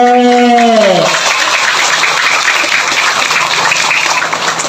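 Schoolchildren at an elementary school Isra Mi'raj commemoration burst into loud, close applause right after a brief spoken voice, a dense, steady clatter of small hands continuing to the end.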